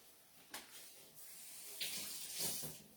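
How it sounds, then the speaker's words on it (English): Tap water runs steadily into a sink over a hand being rinsed while cooking rice, a continuous close hiss with small splashy surges and no voices. "Rinse my hand."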